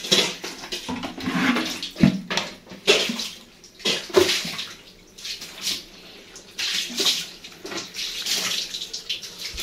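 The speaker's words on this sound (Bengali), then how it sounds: "আমরা অনেকগুলো ডগকে গোসল করাইলাম" Dogs are being bathed with water, producing uneven splashing and pouring in bursts that rise and fall, with short gaps between, close by and fairly loud, no talking.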